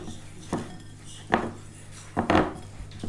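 Dumpling dough being mixed in a bowl with a knife: three or four clattering scrapes and knocks of metal against the bowl, irregularly spaced and fairly loud, with no talking.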